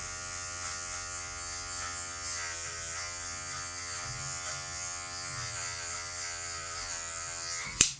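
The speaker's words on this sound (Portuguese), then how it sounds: "E só com a pontinha da máquina, com a quina da máquina, eu venho removendo o excesso." Electric hair clippers set to zero, corner of the blade removing excess hair during a taper fade: a close, continuous buzzing drone, steady and alone, ending with a sharp click as the clipper is set down or switched.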